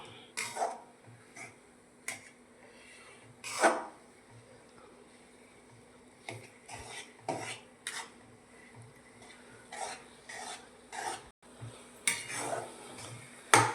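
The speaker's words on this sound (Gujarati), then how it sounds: "આ રીતે ધીમા ગેસે આપણે શેકવાનું છે બે ત્રણ મિનિટ જેટલું" Sweet potato sheera being roasted in a pan over a low gas flame, with a spoon scraping and clinking against the metal pan in irregular close stirring strokes and occasional sharper knocks.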